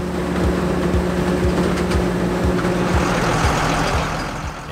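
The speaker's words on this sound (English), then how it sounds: "He's driving the winery's Fendt Favorite 824" A Fendt Favorite 824 tractor driving off from a vineyard at a grape-harvesting winery, its engine a steady loud drone with a regular low thumping pulse rolling along at close range.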